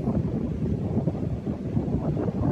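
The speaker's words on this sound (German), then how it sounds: "der Wind ist heute" Strong outdoor wind on Gran Canaria buffets the microphone, producing a continuous, loud, rumbling roar with uneven gusts throughout.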